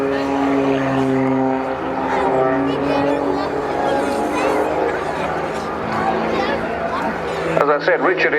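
At the Cosford air show, a Pitts Special aerobatic biplane drones overhead with its propeller engine rising and falling as it maneuvers, heard under continuous loud announcer commentary and crowd noise.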